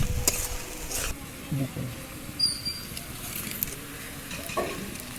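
Chicken bhuna masala being stirred in a pan gives a faint, crackly sizzle, with intermittent soft scrapes and taps of a spoon and a few brief clicks, fairly close by.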